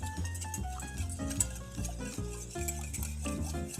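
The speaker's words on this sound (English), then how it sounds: "So you continue stirring until it becomes a nice creamy consistency." A spoon stirs plant-based bechamel sauce in a pot for a lasagne, giving a steady soft scraping beneath louder melodic background music.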